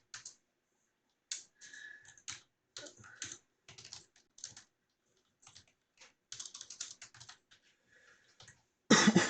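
Bursts of quick keystrokes on a computer keyboard while writing Python code for a realtime dashboard, close and clear, in irregular runs separated by short pauses, ending with a louder cluster of clacks.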